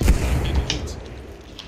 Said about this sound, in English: That's a grenade on you, mate.